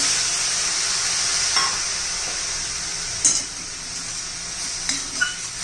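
Fresh grated coconut cooks in ghee with milk added for sweet ladoos, making a steady close hissing sizzle with a few light clinks and scrapes of a utensil against the pan.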